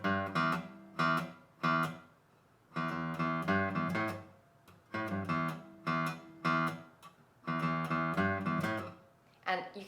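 Guitar playing a riff on the low sixth string, short repeated phrases of plucked notes in a steady pattern with gaps between repetitions, moderately quiet and without talk.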